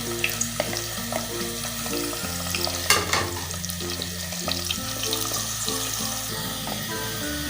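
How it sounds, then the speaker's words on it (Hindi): Onions frying in hot ghee inside a clay handi, a steady close sizzle with stirring clatter and scraping throughout. "चलिए ये घी हमारा गर्म हो गया है। प्याज पहले ब्राउन कर लेते हैं।"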